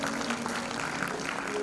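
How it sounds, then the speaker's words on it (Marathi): Applause from the audience at a matchmaking event (vadhu var melava), a moderately quiet, continuous wash of many people clapping at an even level throughout. "आपण त्यांना प्रोत्साहन म्हणून टाळ्या वाजवूया"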